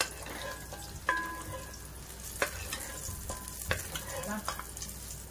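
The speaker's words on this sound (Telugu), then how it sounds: "ఇందులో కొద్దిగా 4 జీడిపప్పు వేసి ఫ్రై చేద్దాం" Four cashew nuts frying in hot oil in a pan, a soft continuous sizzle broken by several sharp clinks and scrapes of a spoon stirring against the metal.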